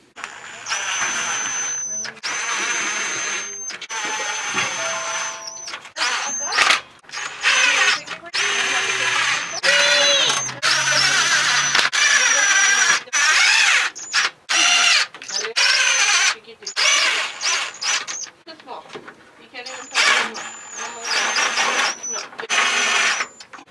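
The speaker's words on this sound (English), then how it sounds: "Alright, so now I'm going to put all the bolts in." A power drill runs in repeated bursts, loud and close, driving the bolts back into the transmission pan of a 2500HD Chevy with a 4L80E transmission, with short pauses between each bolt.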